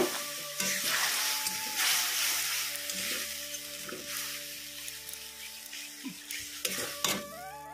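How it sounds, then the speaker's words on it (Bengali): Dal sautéed in a home pan, a steady close sizzle with scrapes and stirring knocks from a spoon, plus a few clinks of utensils, with no one talking. "চলো ডালটা সাঁতলে নিই।"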